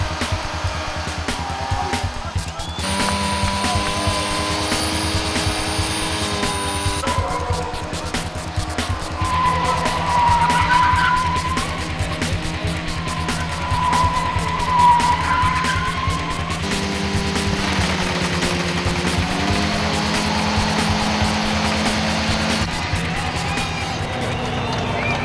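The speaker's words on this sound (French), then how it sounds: "À Hockenheim, la séance de burn est incontournable" Rear-wheel-drive cars do burnouts at a GTI tuning show at Hockenheim, with tires screeching in long sustained squeals that rise and fall over roaring engines, under a constant crowd murmur.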